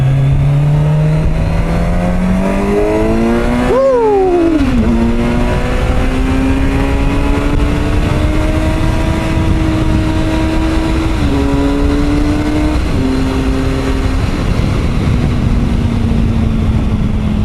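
A 2019 Kawasaki Versys 1000 SE motorcycle engine revs hard and loud, climbing toward the rev limiter with a sharp whine and shifts through gears, then pulls steadily, heard close up.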